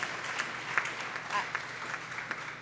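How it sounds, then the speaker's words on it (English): An audience at a democracy summit panel applauds a speaker with brief, dense clapping that stays fairly steady, with scattered louder claps and faint voices mixed in. "Let's give her a round of applause"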